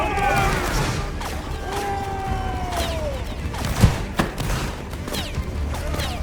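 Massed gunfire from a needle gun battle in a video game, with overlapping bursts and a sharp crack near the middle over a dense, continuous din, while people talk throughout.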